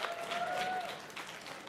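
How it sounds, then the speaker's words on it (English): Applause from a StarCraft esports tournament audience, fairly faint and brief, with a steady wash of clapping and a tone sounding underneath. "let's have a round of applause for them"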